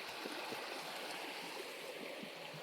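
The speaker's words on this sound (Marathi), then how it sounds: "पूर्ण ह्या साईडनी पण एका जागावरनं पाणी येत आहे" Water trickles down the rocks near the Pitalkhora caves, a soft, continuous, fairly distant stream-like murmur with no other sounds.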